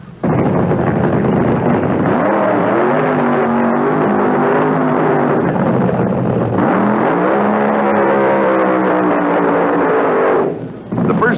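Funny cars at a 1973 IHRA drag race roar in a loud, sustained engine blast with rising harmonic sweeps, easing off briefly and surging again before cutting out near the end.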